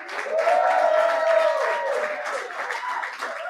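Live crowd inside a pub cheering and applauding at a podcast celebration, a raised voice or whoop rising over steady clapping that tapers slightly toward the end.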